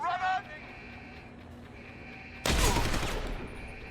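A single loud shotgun blast erupts late in the Deus Ex: Human Revolution game, its broad crack and rumble decaying over the final second after quieter game ambience and a brief voice.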